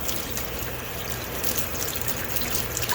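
Water runs steadily from a newly installed kitchen faucet with its aerator removed during a countertop plumbing install, a continuous close hiss and trickle into the sink with no talking.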